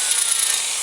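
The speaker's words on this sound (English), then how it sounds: "So often when we're doing wire brush work, we use these little bronze brushes on a drill like that." A small bronze wire brush spun by a drill abrades paint from a vintage caravan window, giving a steady, close, bright scratching hiss without pause.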